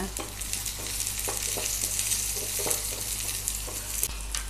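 Steady sizzling of onions sautéing in oil, with intermittent stirring scrapes against the pan, close up and continuous.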